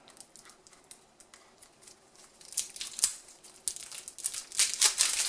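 Plastic bags crinkling as a Rocketmen board game is unboxed, close scattered rustles and crackles growing louder and busier toward the end.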